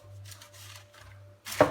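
Knife cutting through a fish pastilla, several soft slicing scrapes followed by one sharp, louder chop against the board at the end, close and quiet.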